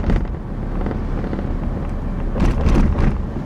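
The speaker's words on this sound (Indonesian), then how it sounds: "Di depan ada lagi speed bump, kalian bisa dengar ini kecepatan 40 ya" A Toyota Kijang Innova rolls over a speed bump at 40 km/h without braking, a continuous rumble of road and wind noise with a brief thumping jolt and rattle near the end.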